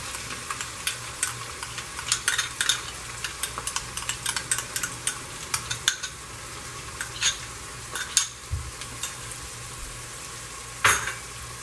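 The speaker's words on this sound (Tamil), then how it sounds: "இஞ்சி பூண்டு பேஸ்ட் வந்து நல்லா பச்சை வாசம் போடுற அளவுக்கு வதக்கணும்." Ginger garlic paste and green chillies sautéing in a pan for mutton biryani, with a steady low sizzle and frequent light clinks and scrapes of a spoon stirring, no voices.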